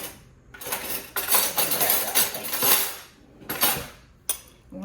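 Metal spoon clatters and scrapes against a dish while scooping blueberries onto a lemon blueberry cake, several clinking bursts of varying length close by with short pauses between, no talking.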